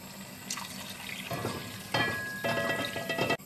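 Boiled water poured into a pot of meatball sauce, about one and a half litres, splashing and trickling in short bursts of rising and falling liquid noise at close range, without talk.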